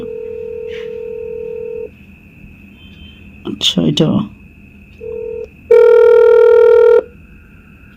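A telephone line gives a steady tone, then brief dialing beeps, and a loud ringback tone follows while placing a call, with a short burst of speech in the middle.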